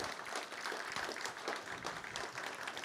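Guests at an evening literary event with authors give a round of applause, a dense, even wash of many hands clapping, moderately distant, that continues without a break.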